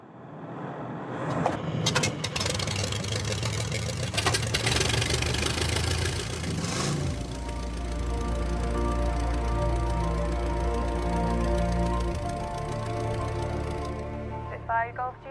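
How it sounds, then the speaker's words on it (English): A WW2 Spitfire's Merlin aircraft engine cranks and catches with sputtering, popping bursts, then settles into a loud, steady, throbbing idle with a deep low rumble and a few blips near the end. "The first test is whether the Merlin engine will start at all."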